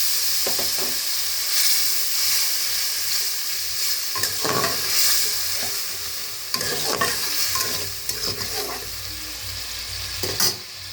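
Food with turmeric and salt sizzles steadily in a pan after a splash of water, a constant loud hiss with intermittent stirring scrapes and bursts of spitting.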